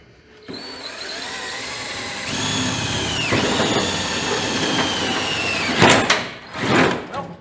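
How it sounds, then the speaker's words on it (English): A power drill whines steadily for several seconds while boring into the front clip of a 1940 Chevy coupe, its pitch shifting under load before the motor stops and a couple of rough clunks follow. "Let me get a drill."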